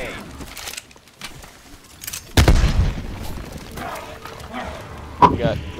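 Frag grenades explode in the video game Call of Duty Cold War, with one deep, loud boom followed by a second sharper blast a few seconds later. A player's voice is heard around the explosions.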